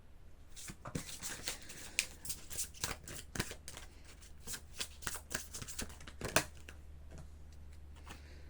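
A deck of oracle cards is shuffled by hand, a quick series of soft riffling flutters and taps in uneven bursts, close and quiet, with no talking.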